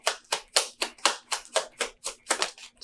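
Tarot cards drawn and laid out on a table, a quick series of about a dozen crisp slaps and flicks in a rhythmic run, close and clear with no talking.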